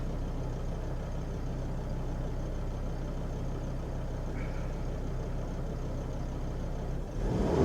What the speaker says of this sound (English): There you go, the engine rev come up.